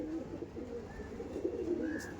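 A Punjabi pigeon coos in soft, low rolling notes close by, with faint background chatter of other birds.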